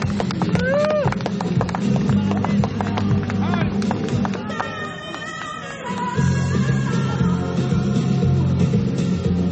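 Horse hooves clip-clop at an agricultural fair amid a lively arena atmosphere, with a loudspeaker announcer talking and the crowd faintly in the background.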